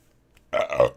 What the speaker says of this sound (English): now I have a lot of hiccups